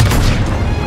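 A heavy shell strikes a tank in Call of Duty WWII, a loud low booming impact with a rumbling, crashing tail that fills the whole short moment, with no voices over it.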